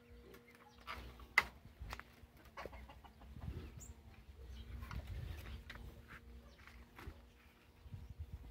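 Chickens and chicks on a duck farm cluck and peep faintly in scattered bursts, with footsteps and light rustling close by, quiet and intermittent throughout.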